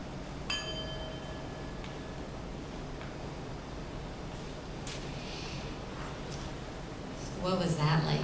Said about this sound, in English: after you hear the sound of the bell, you'll be back